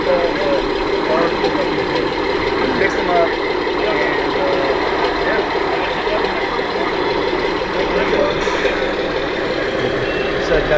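At a model expo, an RC custom semi truck sound module plays an idling diesel engine with reversing beeps, loud and continuous, while people talk over it.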